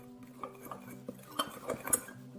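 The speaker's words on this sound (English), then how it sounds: "We're going to mix those together" Ground nutmeg, cloves and allspice stirred together in a bowl, with faint scraping and light clinks of a utensil against the dish, soft and close, no speech.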